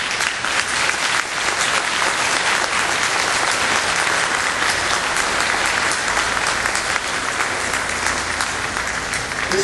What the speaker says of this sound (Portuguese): espero que esses aplausos representem um sentimento nacional.